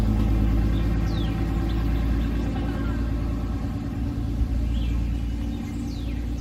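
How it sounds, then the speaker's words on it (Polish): A car engine rumbles steadily close by in a parked vehicle during a Memorial Day outing in Texas, a continuous low drone with faint chirps and light background noise over it. "O, zobaczcie, jak ten samochód."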